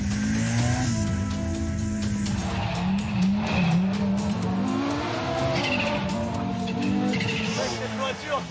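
An Audi Quattro S1 Group B rally car engine roars and revs continuously up close, with tires squealing through slides and a voice faintly underneath.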